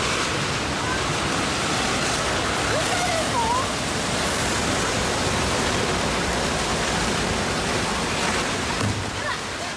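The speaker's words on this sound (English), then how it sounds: "A monstrous landslide tears through a residential neighborhood, swallowing infrastructure at a terrifying speed." Landslide tearing through a residential neighborhood in Turkey's Kaçkar Mountains, a brown mass plunging down a narrow gorge: a loud, steady rushing roar like a waterfall, continuous and unbroken throughout.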